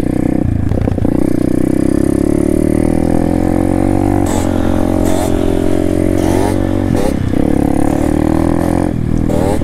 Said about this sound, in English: The little Amazon pit bike.